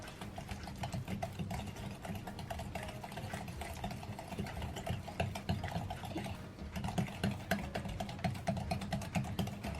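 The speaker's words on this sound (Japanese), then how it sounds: "味噌マドラーで混ぜていきます。" Banana bread batter with sifted granulated sugar is stirred in a bowl with a miso muddler, giving a steady run of quick, close clicking and scraping strokes with no voices.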